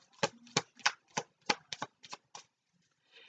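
A deck of tarot cards is shuffled in a quick run of about nine crisp riffling bursts, close and clear, ending in a short pause and a faint soft rustle.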